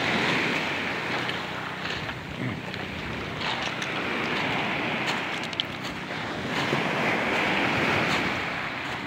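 Rough sea off a fishing village shore keeps up a continuous loud wash of surf and wind, roaring steadily with no pauses.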